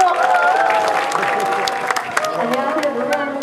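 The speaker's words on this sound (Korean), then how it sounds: "큰 박수로 맞이해 주시죠." A crowd applauds steadily at an anti-nuclear rally in Yeongdeok, South Korea, while tonal music or a voice carries on over the clapping, which stays fairly loud throughout.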